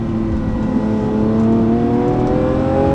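A Lamborghini Aventador S Roadster's engine revs continuously with a rising, high-pitched harmonic wail, loud and close, driving fast on winding Corsican roads, no talk.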